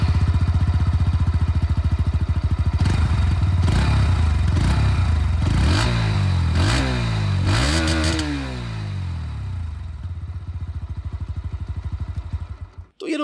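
A 2024 Bajaj Pulsar NS125 motorcycle with an underbelly exhaust idles loudly up close, then revs several times in rising and falling sweeps before settling and shutting off.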